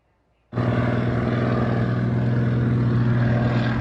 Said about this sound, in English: as you're watching that seaplane take off from the harbor over Vancouver